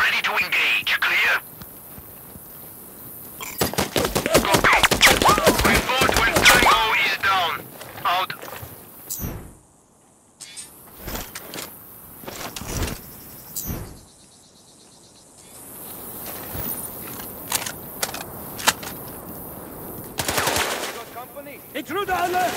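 Video game gunfire from Sniper Ghost Warrior Contracts 2 in a temple complex: rapid machine-gun bursts and single shots in loud clusters separated by quieter gaps, with game voices speaking in between.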